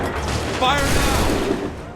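A massed musket volley in Assassin's Creed III, a loud dense crackling burst of many shots fired together that rolls on for over a second amid battle noise, with shouting voices.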